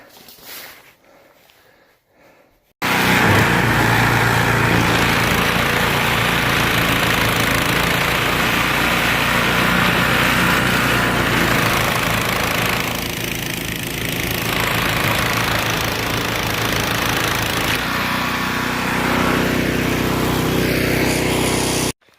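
Snowblower engine that had stalled out by the road, suspected of a fuel pickup problem, starts abruptly after a quiet moment and runs loud and steady close by, a continuous mid-pitched engine drone with no talking.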